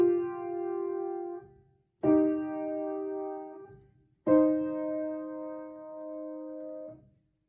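A musical interval sounds three times as a music theory example, each a sustained pair of clear tones struck together, ringing for about two seconds and then fading into silence before the next.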